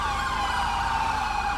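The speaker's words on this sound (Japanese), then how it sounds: "パトカー1台がね追跡してるみたいですね。" A police car siren wails continuously and loudly during a chase in the video game GTA 5, steady and unbroken with engine rumble beneath and no talking.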